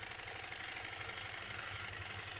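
A Wilesco D365 model steam roller runs steadily, giving a continuous, even mechanical chugging and hiss at close range with no voices.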